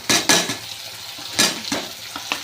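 Tomatoes tipped into onions fried deep red in oil with a tempering of curry leaves and garlic, giving several loud clattering scrapes and splashes over a steady background sizzle.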